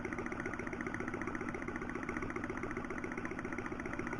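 Horizontal Stirling engine with flywheel bearings and a dry bushing running steadily, a fast even mechanical chatter and hum, faint and continuous with no voices.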